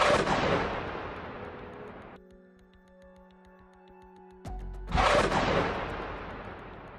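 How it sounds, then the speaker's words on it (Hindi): A 107 mm rocket launches from a stand set up among greenery, a roaring rush of noise that fades, then a sharp crack followed by another loud roaring blast, heard fairly near with no talk. "कैसे एक लड़ाका हरियाली के बीच रॉकेटों को दागने के लिए स्टैंड तैयार करता है और फिर उन रॉकेटों को फायर कर देता है"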